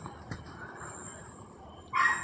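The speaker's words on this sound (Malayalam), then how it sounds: "ഇവിടെ ഒരു അടുത്ത വീട്ടിലൊരു പട്ടി ഉണ്ട് കേട്ടോ അതാണ് ഇങ്ങനെ കുറയ്ക്കണത്" A neighbour's dog, some distance away, gives a faint yip and then a louder bark burst at the end over quiet background noise.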